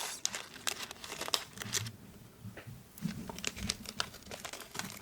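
Thin plastic bag holding small heart-shaped beads crinkles and rustles close by in soft, continuous handling, with scattered sharper crackles and no talking.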